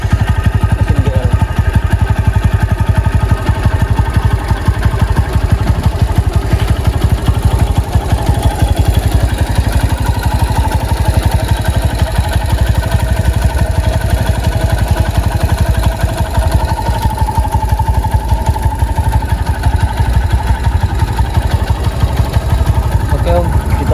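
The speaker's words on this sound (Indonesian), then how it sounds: "Masih ada suara khas bring-bringnya khas mesin GL." A Honda Megapro GL motorcycle engine idles steadily and close by with a continuous low burbling putter, holding even throughout.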